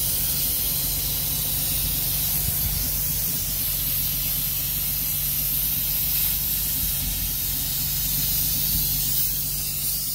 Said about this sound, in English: Now we're gonna pump this wheel.